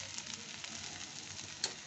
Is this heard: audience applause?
no